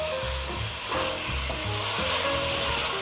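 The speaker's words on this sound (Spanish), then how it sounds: "Agregamos toda nuestra carne. Y vamos a hacer que nuestra carne cocine" Meat searing in a pot, a dense, loud, unbroken sizzle and steamy hiss with faint low knocks beneath, close by and without any talking.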